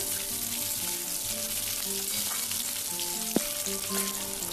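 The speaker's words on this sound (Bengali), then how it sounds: "একটা আলুকে ওই তেলের মধ্যে দিয়ে দিচ্ছি, আর আলুটা আমি লম্বা লম্বা করে কেটে নিয়েছি" Long-cut potato and bay leaves fry in hot oil, giving a steady, close sizzle and crackle with a single brief utensil knock partway through and no talk.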